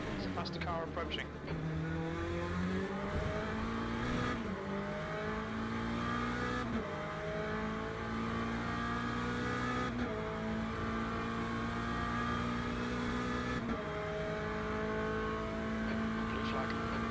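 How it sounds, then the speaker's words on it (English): LMGT3 race cars in the Le Mans Ultimate racing game at Le Mans, with a continuous loud engine drone whose pitch steps up and down through gear changes as a faster car approaches. "There's a faster car approaching."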